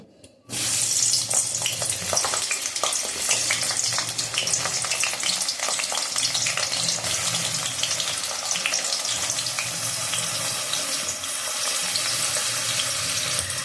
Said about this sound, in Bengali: তেল গরম হয়ে গেছে। আমি প্রথমে বেগুনটা একটু হালকা ভেজে নিচ্ছি।